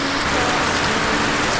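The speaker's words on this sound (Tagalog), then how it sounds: "Lakas yung ulan." Heavy rain pours down in a rural village with no electricity, a loud dense continuous hiss of drops hammering surfaces close by.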